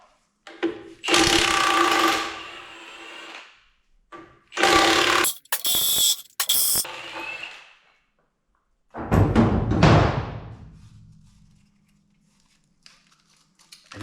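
Ratchet wrench loosening the motor mounts on a Kenworth K100 engine being rebuilt, heard as three separate bursts of close, loud clicking with short pauses between them and no talking.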